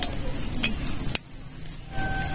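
Dried red chillies sizzle in hot mustard oil in a pan for a prawn mustard curry, a steady close crackle broken by a sharp metallic clink of a utensil partway through.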